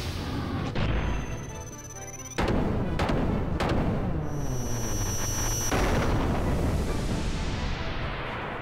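A small robot transformed into a cannon fires in the Xenogears video game, giving heavy booming blasts with a sudden loud surge partway through and a sustained roaring rumble, followed by ringing high tones.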